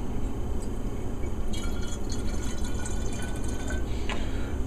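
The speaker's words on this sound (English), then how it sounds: "So for the sake of the video, I'm going to use some vinegar." Vinegar trickles and splashes into a hummingbird feeder for cleaning, a soft, close pour with small bright drips and gurgles over a low background hum, no talking.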